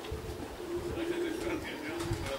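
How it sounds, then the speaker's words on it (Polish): Racing pigeons coo softly at a loft in Żary, Poland, as they come back from a race, a low, repeated throaty cooing close by, with people talking in the background. "Z południa przyszły dwa następne gołębie."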